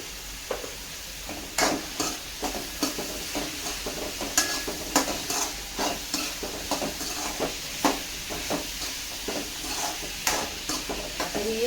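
Cut potatoes go into a pan of moth beans cooking in oil, bringing a soft continuous sizzle punctuated by irregular clinks and scrapes of a stirring spoon against the pan, fairly quiet and with no talking.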